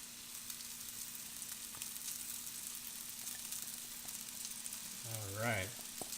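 Rice frying in a pan with onions, a steady sizzle throughout and a brief stirring scrape near the end, fairly close.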